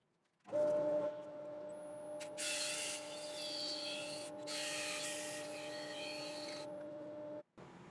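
A chestnut burl bowl is sanded on a spinning lathe: a steady motor hum with a tonal whine, overlaid by bursts of abrasive rubbing that start and stop.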